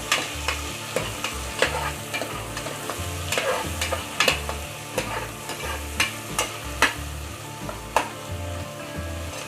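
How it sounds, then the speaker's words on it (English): A red onion and green chilies fry in hot oil, a steady loud sizzle broken by repeated stirring scrapes and clanks in the pan. "So while the onions are frying,"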